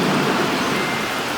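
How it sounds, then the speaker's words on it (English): Heavy rain pours down in a storm with thunder, a dense, loud, steady roar that fills the whole short stretch. "and there's the rain."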